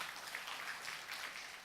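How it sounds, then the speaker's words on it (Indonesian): Church congregation clapping together during a Sunday worship service, a dense, steady wash of applause at low level filling the whole moment with no voices over it. "Tepuk tangan dulu buat Allah kita"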